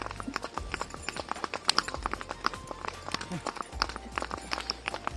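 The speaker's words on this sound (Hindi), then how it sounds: "This is my घोड़ा।" A horse's hooves clip-clopping in an uneven rhythm on a mountain trail lined with pine trees in Pahalgam, Kashmir, close and moderately loud, with other clatter around.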